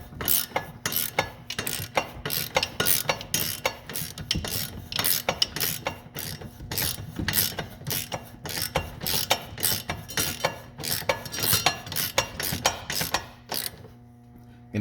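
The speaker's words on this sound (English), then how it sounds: "So as you see, I'm pushing up with the palm of my hand as I'm ratcheting." Hand ratchet clicking rapidly while tightening a subframe collar bolt on a Kia Stinger, a close, loud run of dense metallic pawl clicks in bursts of strokes, with brief pauses near the end and no talk.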